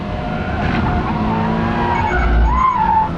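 Toyota GR86 sliding on a race track as the tail steps out, loud close engine roar and tire squeal throughout, with a rising squeal near the end and no talk.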